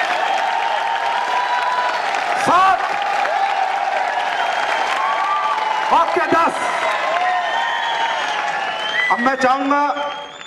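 Audience applause with some cheering fills a product launch event, steady and loud throughout, while someone talks over it on a microphone.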